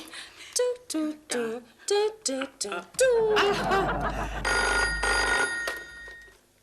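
A telephone bell rings loudly in a comedy scene, a sustained electronic trill starting partway through, with short bursts of speech and chuckling before it and laughter mixed in as it rings.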